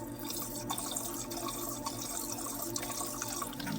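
Water pours steadily into a glass beaker during precious-metal scrap refining, a continuous close trickling and splashing with faint drips, heard alone without speech.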